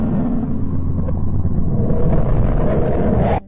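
Vibrations of the planet Mercury, converted into sound, make a deep, continuous rumbling drone with a rough, grainy texture. It stays loud and steady for about three seconds before fading out quickly.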